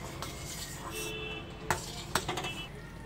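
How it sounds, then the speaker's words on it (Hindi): A spoon stirs makhana kheer in a pan over a medium flame, with soft scraping and a few sharp clinks of metal against the pan over a steady background hiss. "इस तरह से इसे चलाते रहना है बीच बीच में।"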